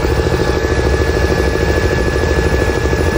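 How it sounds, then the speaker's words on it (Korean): Kia Sorento hybrid giving off a steady, loud, rumbling drive drone with a helicopter-like throbbing pulse that holds evenly throughout, with no talk. "소렌토 하이브리드에서 그 헬기 소리,"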